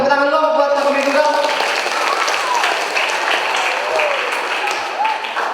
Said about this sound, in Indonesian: Boleh kita tepuk tangan dulu buat stand komedi tunggal.